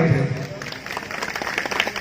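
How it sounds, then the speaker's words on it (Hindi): Audience applause at an annual Sri Chaitanya birth festival sankirtan gathering in Odisha, a steady mid-level patter of many hands clapping, with a voice over the start. "समस्त गोटे ताली मारी"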